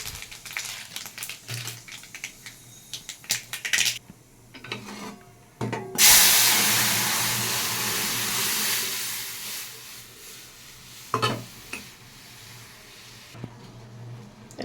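Dried red chillies, black cumin and mustard seeds hit hot oil to temper dal, bursting into a loud sustained sizzle and hiss after some clattering handling sounds, then settling into a quieter frying crackle.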